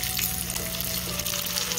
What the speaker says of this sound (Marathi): आता आपण दुसऱ्या साईडने तळून घेऊया.